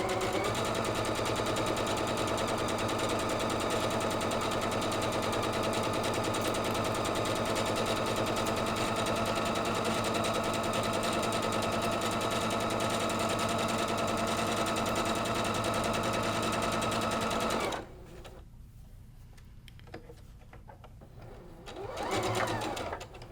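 A sewing machine runs steadily, stitching quilt block fabric for a Friendship Star variation, a loud continuous mechanical whir that stops abruptly near the end, leaving faint handling noises.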